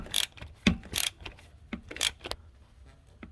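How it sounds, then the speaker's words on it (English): A bolt being tightened against the alternator spacer on an 8.1 Vortec engine in a Winnebago on a Workhorse chassis, heard as faint irregular metallic clicks and ratcheting ticks in short bursts. "as I tighten this bolt up, watch that spacer push in until it comes in contact with the alternator"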